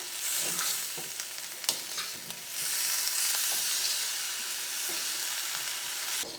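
Steady frying sizzle of cauliflower and potato in a pan with intermittent scraping and stirring strokes, close and fairly loud, no voices.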